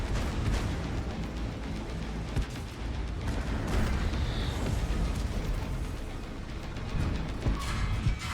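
Tank cannon fire in a tank battle video game, with a few heavy booms landing within a constant, dense roar of battle noise, loud and close.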